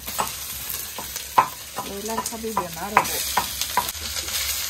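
Fresh broiler chicken fries in a pan with fried onions, a loud close sizzle broken by clanking stirs of a spatula, with faint tonal background sounds in between.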